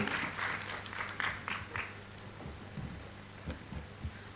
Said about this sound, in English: a huge round of applause to each and every panel members for sharing their insights and best practices with us